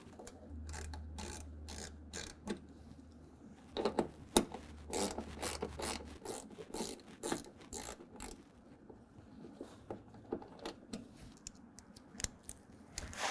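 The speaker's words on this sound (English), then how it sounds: "you're going to use an 8mm socket to pull those out" An 8mm socket on a ratchet clicks and rattles while fender bolts come out of a 2020 Ram 2500, quick bursts of metallic ratcheting and small knocks, close and moderately loud, with no talking.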